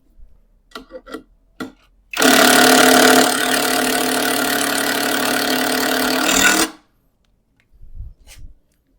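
A CANLIDI CID-400S impact screwdriver rated at 400 Nm drives a nut in one loud, sustained burst of roughly four seconds, with dense rattling hammer impacts over a motor whine. A few faint knocks come before it and after it.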